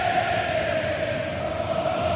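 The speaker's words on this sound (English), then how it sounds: "Well, just listen to this crowd." A football video game stadium crowd keeps up a steady, loud roar of cheering and chanting, a continuous wash of voices with no break.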